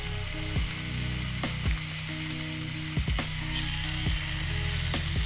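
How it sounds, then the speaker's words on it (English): Ground beef browning in a pan, about a pound, sizzling steadily throughout with repeated scraping knocks of a utensil against the pan at irregular intervals, close and fairly loud with no talking. "we need to go ahead and get our ground beef in our pan and start getting it brown."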